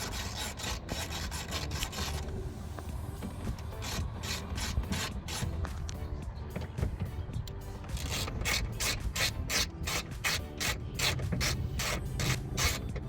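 Torx T30 bit on a wrench working loose the screws on a 2022–2024 Toyota Tundra's digital rearview camera mount, giving a steady stream of close ratcheting clicks and metallic rubbing with no one talking.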